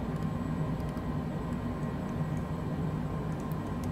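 Jet engines in a flight simulator spool up as auto throttle re-engages on approach to a cold Siberian airport, a steady broadband roar holding at even loudness throughout, with no voices.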